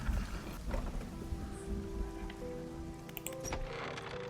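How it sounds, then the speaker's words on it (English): Steady rain falls in a video game during broad daylight, a soft, even patter that continues throughout, with faint tonal game sounds layered above it. No one speaks. "Hey, it's raining."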